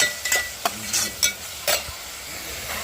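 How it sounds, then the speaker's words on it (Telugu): Spoon stirring a sizzling mixture in a pan after salt and turmeric go in, with several scraping strokes over steady frying hiss, close and fairly loud, no talking. "కొంచెం లైట్గా పసుపు కూడా వేసుకొని మొత్తం అయితే కలిదిప్పేసేసుకోవాలి"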